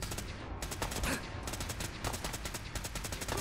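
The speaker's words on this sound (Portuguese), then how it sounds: "O gajo dá-me 5 tiros, mata-me." Rapid gunfire from the video game Fallout 4, a dense burst of repeated shots running steadily through the whole stretch at moderate level with no talk over it.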